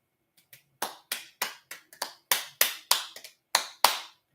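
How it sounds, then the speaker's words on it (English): A single person claps their hands about a dozen times in an uneven, unhurried rhythm, each clap sharp, close and dry against an otherwise silent room, with no talking. "that's just me clapping"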